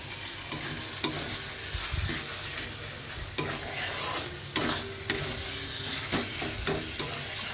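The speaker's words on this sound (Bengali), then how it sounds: "এটাকে এবার কষছি, ভালো করে কষে নিয়ে এটাকে দেবো" Spiced curry stir-fried in a home kitchen pan, a steady sizzle with repeated scraping strokes of a spoon against the pan, fairly close, no talking.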